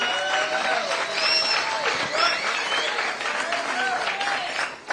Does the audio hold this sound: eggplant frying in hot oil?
no